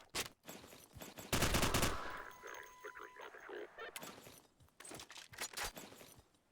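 MP44 submachine gun firing in Gmod, with a loud close burst of rapid shots followed by scattered single reports and clattering game effects, under intermittent talk.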